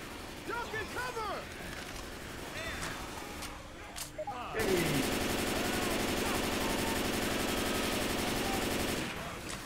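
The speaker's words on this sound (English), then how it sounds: "I thought this gun just keeps shooting." Continuous automatic machine-gun fire in Left 4 Dead 2, starting after some scattered game noise and rattling on steadily for several seconds at moderate loudness before cutting off.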